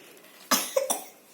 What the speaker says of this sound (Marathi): अरे खोकला